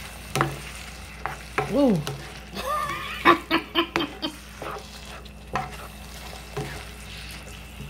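Taco meat stirred in a frying pan gives soft scraping and light sizzle beneath chatter, with a short laugh and several brief voiced exclamations breaking in.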